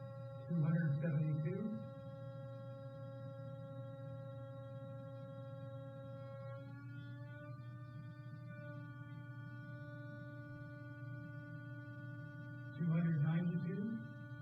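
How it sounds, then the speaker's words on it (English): Pure single-frequency tones from a frequency generator hold steady and faint for the whole stretch, one shifting in pitch partway through, while two short bursts of voice break in briefly. "the frequency generator was putting out pure tones, single frequency tones"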